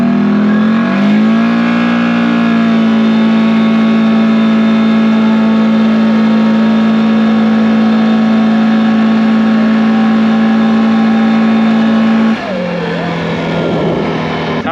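A 450 ATV fitted with a CVTECH clutch accelerates in high forward gear, its engine droning loudly and close with a steady rising whine that holds for many seconds before the pitch drops as it eases off.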